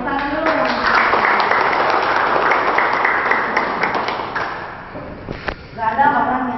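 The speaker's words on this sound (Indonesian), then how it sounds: "Oke, tepuk tangan dulu." An audience at a community health gathering in Cibadak, Sukabumi bursts into loud, dense clapping that fills the room, then thins and fades near the end as a few scattered claps and thuds remain.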